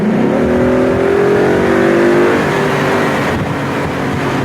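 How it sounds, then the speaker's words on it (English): A Ford Mustang four-cylinder engine revs hard under throttle, its note climbing steadily then holding in a loud, continuous, close-up drone with no talking. "If I press the throttle"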